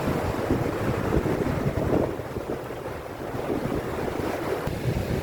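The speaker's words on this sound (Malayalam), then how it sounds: "കടൽ വെള്ളമെല്ലാം മുകളിൽ കയറിക്കൊണ്ട് വന്നിട്ട് വെള്ളം കയറി" Sea surf surging up onto a low-lying shore lined with houses during rain, a continuous loud roar of broken water with rising and falling swells and wind buffeting the microphone.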